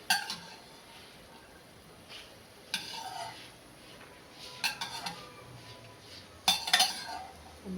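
Metal utensils clink against a pan as fried peanuts are lifted out of hot oil, a few soft, scattered clinks with quiet pauses between them.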